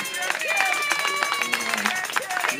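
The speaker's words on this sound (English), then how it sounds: "So I would like to give my brother a round of applause as well." An audience at Santa Monica College's Bike Corral welcome event claps in a steady, dense round of applause that continues throughout.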